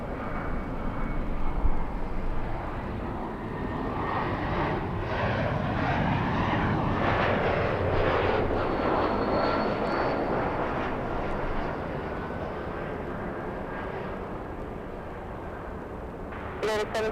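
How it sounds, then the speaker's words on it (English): A Boeing 757 jet at LAX airport gives a steady, loud broadband engine roar that swells and holds across the whole stretch, with faint radio-style voices under it. "we have the 757"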